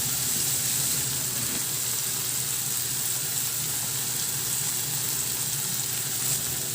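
Tomatoes seasoned with salt, pepper, soy sauce and oyster sauce fry in a pan with a loud, steady, close sizzle that hisses on without a break.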